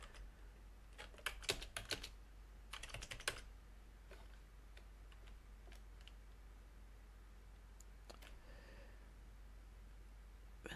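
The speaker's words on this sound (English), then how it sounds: "change to edit mode and backspace and type what you'd like your sign to read" Quick bursts of computer keyboard keystrokes while editing text in Blender, close and crisp, clustered in the first few seconds, then scattered single clicks over a quiet background hum.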